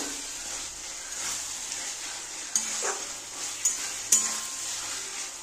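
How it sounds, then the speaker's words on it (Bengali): A spice paste cooks down with fried potatoes and eggplant in a pan, making a soft, continuous sizzle with a few sharp scrapes and clinks of the spatula against the pan. "এটা আরেকটু ভালো করে কষিয়ে নেব"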